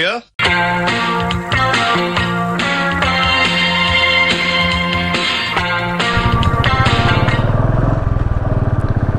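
Music plays loudly, and toward the end a Royal Enfield Bullet 350 motorcycle engine's rapid, even thumping comes through close by.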